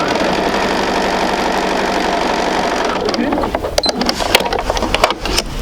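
Sewing machine runs steadily for about three seconds while stitching a quilt sampler seam, then stops, and a few scattered clicks and handling taps follow.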